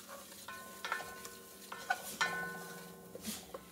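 Cream cheese being stirred in a pan over medium heat for chicken fettuccine Alfredo, with soft scraping strokes and a faint, steady sizzle, quiet and close.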